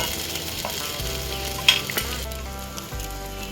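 Spices hit a hot frying pan with a bright sizzle while a utensil scrapes and stirs, giving a few sharp clinks over the continuous crackle of frying.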